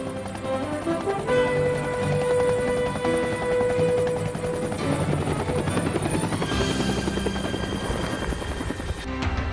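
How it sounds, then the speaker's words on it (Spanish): A helicopter's rotor chops loudly and steadily overhead, a rapid rhythmic thudding with a high turbine whine running throughout. "Su característico sonido clop, clop, clop, clop dio origen a la denominación chopper"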